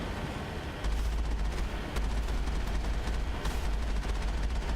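Mako vehicle cannon fire in Mass Effect, heavy booming shots with deep rumbling low end, a few distinct blasts over a dense roaring background, loud and close.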